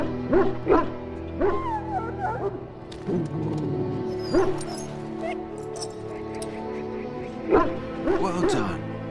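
A sick hound in the video game Dragon Age Origins, having swallowed darkspawn blood, gives repeated short barks and yips mixed with whimpers under and between people talking.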